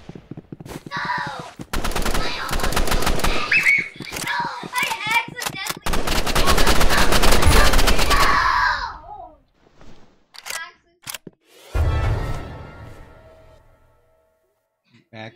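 Video game gunfire, bursts of rapid automatic shots and single cracks in close, loud clusters, broken by pauses and mixed with voices speaking in between.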